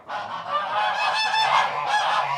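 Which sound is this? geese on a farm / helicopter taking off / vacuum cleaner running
geese on a farm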